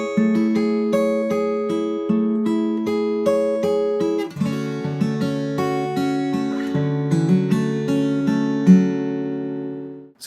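A fingerstyle acoustic guitar plays the intro of a song, with plucked notes over ringing chords in a steady rhythm, close and clear with no talk, for about ten seconds.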